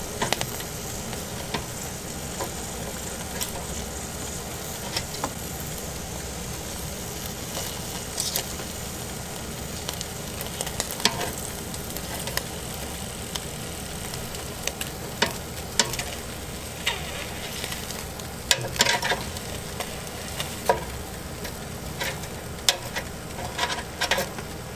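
Fish frying in hot oil in a pan, a steady dense sizzle with crackling pops and bursts running throughout, close and fairly loud, with no one talking.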